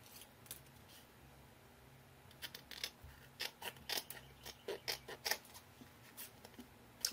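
Scissors trim paper pieces in a series of quick, faint snips, irregular at first and then more frequent, heard close against a quiet room.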